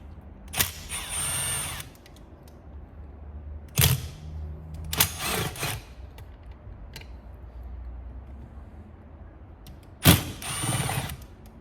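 Screws are being backed out of the main housing of a Titan Wagner paint sprayer, with several short bursts of a power driver whirring close by, separated by quiet pauses.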